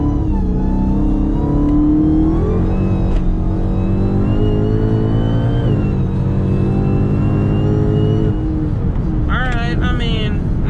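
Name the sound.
tuned Dodge SRT Hellcat accelerating at full throttle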